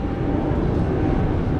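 Low, steady rumble of an airplane passing overhead, a brief continuous drone heard alone.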